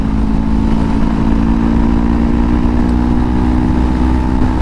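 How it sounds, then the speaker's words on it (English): A 2020 Honda CBR500R motorcycle being ridden, its engine droning steadily and loudly with a constant hum and wind noise and no pauses or speech. "this bike is so much fun to ride"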